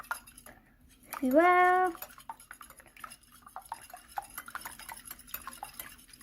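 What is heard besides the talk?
mixing ingredients in a bowl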